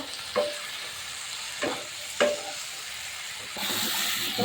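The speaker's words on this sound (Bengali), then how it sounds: "ভেজে রাখা আলু আলুটা দিয়ে সুন্দর করে একটু নেড়ে চেড়ে নেব" A spoon stirs fried potatoes into spices frying in oil in a pan, a steady soft sizzle with three distinct scraping strokes, the sizzle growing louder near the end, close up with no talk.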